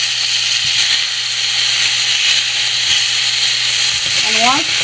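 Scallops sear in a hot pan with a constant loud hiss and sizzle close by, and a voice cuts in briefly near the end.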